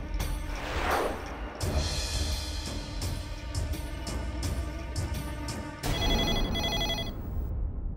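Telephone ringing in a home during a Marathi TV drama scene, a continuous bell-like trill layered over background music, steady and fairly loud for most of its length with a brief dip before it resumes.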